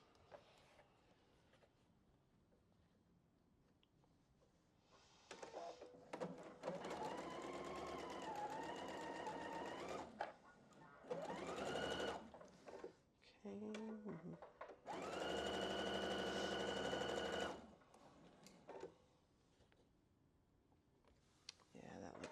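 A domestic sewing machine stitches a quilt block seam in three long runs of steady motor whirr with rising and falling pitch, separated by short pauses, with a few clicks and faint handling sounds between.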